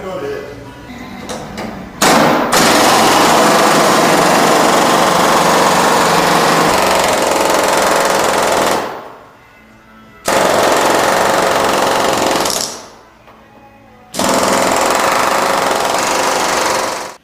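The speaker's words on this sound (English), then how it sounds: "using an air chisel to remove the rear quarters" An air chisel cuts away the rust-riddled rear quarter panels of a 1965 Ford Mustang convertible, loud rapid hammering in long sustained bursts separated by short pauses.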